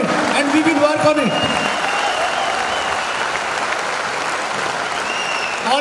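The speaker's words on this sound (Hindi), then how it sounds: "एक बार तालियां बजा के बताइए कि हम इसका पालन करेंगे।" Audience applause at a network marketing seminar, a steady wash of clapping from a large crowd that starts strong and holds evenly through the clip with no voices.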